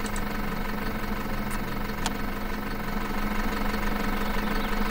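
Tractor engine idling steadily in the farming sim Farm Manager 2018, a continuous low rumble with a faint mechanical knock, constant and moderately loud with no talk over it.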